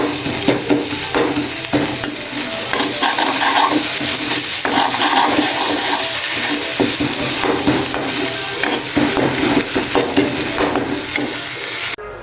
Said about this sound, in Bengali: ভালোভাবে কড়া করে ভেজে নেব, যেন চাপা শুটকির কোনো খারাপ রান্না আসে